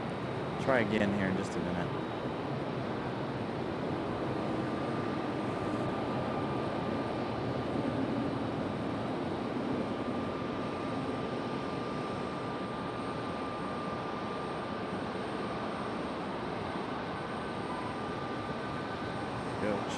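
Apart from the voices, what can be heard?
airliner rolling off runway with reverse thrust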